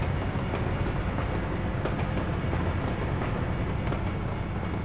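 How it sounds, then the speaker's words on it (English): A freight train rolls past in a video game, a steady, loud rumbling roar with faint rhythmic clatter from the cars that holds for the whole stretch. "Got a freight train rolling through here."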